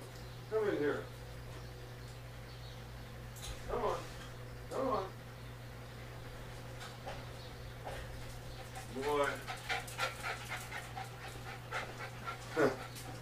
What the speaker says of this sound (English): the dog got out while I was fixing the fuse in my car